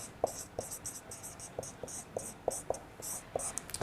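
Pen or marker strokes writing a short row of prime numbers by hand during a maths lesson, a series of short scratchy bursts at an uneven rhythm, close and fairly clear, with no talk over them.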